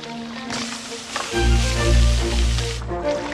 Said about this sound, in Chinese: 橄榄油、煎香洋葱、